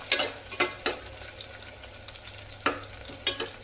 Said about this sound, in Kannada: ಒಂದು ಮೀಡಿಯಮ್ ಸೈಜ್ ಈರುಳ್ಳಿ ಹಾಕ್ತಾ ಇದ್ದೀನಿ ನಾನು ಚೆನ್ನಾಗಿ ಫ್ರೈ ಆಗಬೇಕು